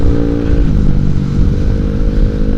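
A Honda Vario 125 scooter running low on oil, its engine droning loud and close throughout with a steady rough, rattly mechanical texture and slight rises in pitch, no voices over it.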